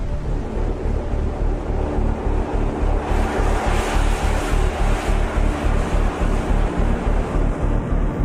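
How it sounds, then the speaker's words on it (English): A torrent of steam erupts from a geothermal drill well that has struck water of 300 degrees Celsius or hotter, making a loud, steady roar with a rushing, windy texture that does not let up. No voices are heard. "A torrent of steam capable of rotating a turbine and generating electricity"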